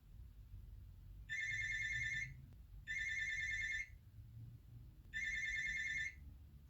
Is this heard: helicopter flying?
no